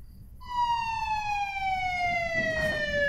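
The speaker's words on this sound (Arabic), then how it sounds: "الإسعاف وصلت برد." An ambulance siren wails as a single long, steady electronic tone that slowly falls in pitch, loud and fairly close, over a faint background with no speech.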